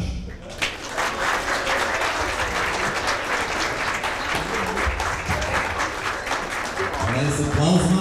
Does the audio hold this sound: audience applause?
yes